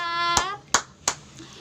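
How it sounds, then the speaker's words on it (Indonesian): Three crisp, evenly spaced hand claps from a group of children during a storytelling session, following a brief sustained voiced tone at the start. "Luar biasa, beri tepuk tangan."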